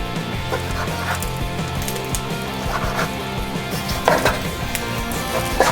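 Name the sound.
knife cutting up chicken breast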